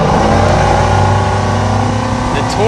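A Yamaha 425 XTO outboard motor on a 2021 Regulator 26xo boat roars steadily and loudly up close during a sea trial, its engine note climbing slightly as it accelerates.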